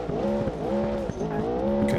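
A De Tomaso Pantera braking hard in BeamNG Drive, its tires squealing in repeated wavering tonal bursts over a loud, close engine note, with no speech.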